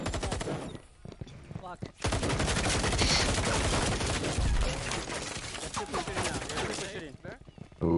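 Rapid automatic gunfire in a competitive team shooter match, loud and sustained bursts from about two seconds onward, with an earlier short burst and players talking and swearing over the shooting.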